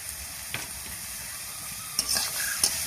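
Bamboo shoots fry with sugar in a pan, a constant soft sizzle broken by a few spatula scrapes and stirring clatters, close by, with no talking.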